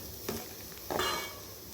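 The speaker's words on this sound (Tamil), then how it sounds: "இப்போ இது நல்லா மிக்ஸ் பண்ணிக்கலாம்" Two brief scraping stirs of a spoon mixing food coloring into a thick kesari mixture in a pot, close and fairly quiet against a soft background hiss.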